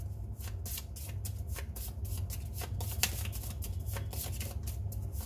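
Tarot reading cards being shuffled close up, a steady run of crisp riffling flutters and soft slaps over a low background hum, with no talking.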